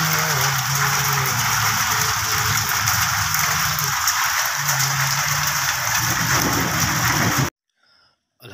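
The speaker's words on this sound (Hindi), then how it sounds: "माशाल्लाह बारिश फुल स्विंग में है।" Heavy rain pours in a dense, loud, continuous hiss with close drops splattering on surfaces, cutting off abruptly near the end to near silence.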